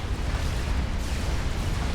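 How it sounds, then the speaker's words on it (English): Dense, roaring explosion noise from a Supreme Commander battle, a steady, loud wash of blasts and rumble filling the whole moment with no clear gaps. "And explosion to the north."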